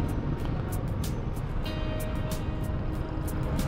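Heavy road traffic near Nepo Center rolls past as a continuous broadband rumble, engines droning and tires hissing close by, with occasional brief higher tones cutting through the dense flow.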